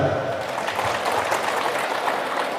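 An audience of adults at a speech on free schooling and corruption gives a steady round of applause, a continuous crackle of many hands at moderate loudness throughout.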